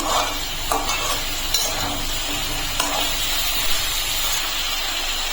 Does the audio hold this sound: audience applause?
no